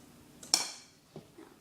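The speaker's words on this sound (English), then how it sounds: "And just take that, mix it together." Brownie cake batter being stirred in a bowl gives a sharp clink of utensil on the dish, then a couple of softer taps, close and fairly quiet with no talk.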